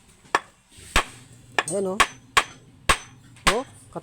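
A hammer repeatedly strikes a homemade all-metal hammer, built without welding, as a strength test: six sharp, loud, ringing impacts spaced about half a second apart, with brief speech between blows.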